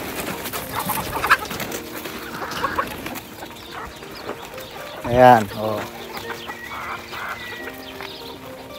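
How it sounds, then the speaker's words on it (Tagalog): Native chickens on a farm in Saudi Arabia cluck on and off near the listener, with a louder flurry of clucks midway, while someone talks over them. "Parang ano rin itong mga manok nila eh."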